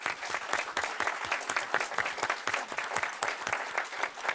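Audience applause for panelists at the close of a UN panel event on sustaining peace, a dense round of clapping from a room of attendees, steady and fairly loud with distinct claps, no one speaking.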